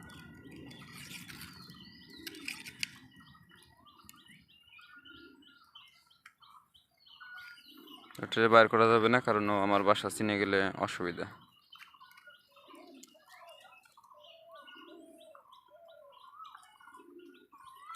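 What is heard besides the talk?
pigeons in a flying loft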